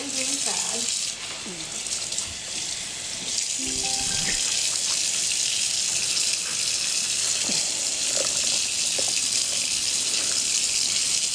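Laundry being rinsed under a steady stream of running tap water, a continuous close gush with occasional splashes and handling noises.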